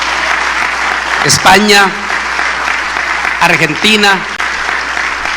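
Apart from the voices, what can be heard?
audience applause welcoming viewers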